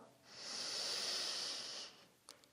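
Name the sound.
deep breath in during yoga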